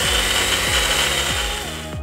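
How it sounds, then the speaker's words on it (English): Digital tube bending machine running in reverse as its spindle returns to the 0 degree start position, a loud close motor drone with a repeating low clunking pattern, ending abruptly after about two seconds. "press and hold the trigger until the spindle returns back to the 0 degree starting position"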